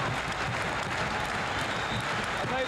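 Capacity crowd at a 1984 wrestling arena roars and applauds for a Samoan wrestler, a dense sustained wash of cheering and clapping that fills the arena without letting up, with some voices blended in.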